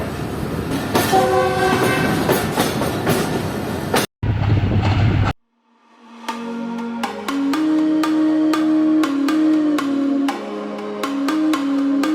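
The locomotive ZCU-6353 hauling the Karachi Express sounds its whistle with a loud, sustained tonal blast over rail noise. After a brief cut, the wheels settle into a steady rhythmic clatter of rolling carriages.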